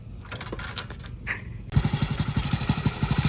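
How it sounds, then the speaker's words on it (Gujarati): Motorcycle engine catching after quieter starting attempts and settling into a close, steady rhythmic idle with regular pulsing chugs. "હા બાઇક ચાલુ થઈ ગયું છે"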